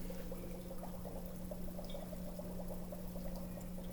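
Dry ice bubbling in sodium hydroxide solution, a steady fizzing and burbling of gas through liquid, continuous and close, over a constant low electrical hum.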